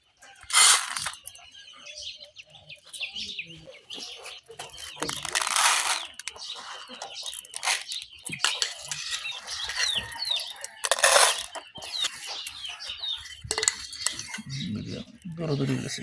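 Small-farm chickens cluck and peck while eating rice mixed with medicine from bowls, steady low clucking punctuated by a few sharp, loud clattering bursts nearby.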